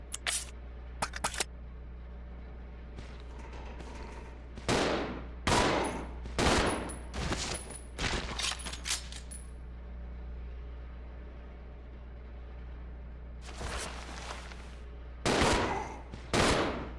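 Gunfire rings out in the video game Resident Evil 0, rapid clustered bursts of shots in two bouts separated by a quiet stretch of faint ambience, loud and punchy with no speech.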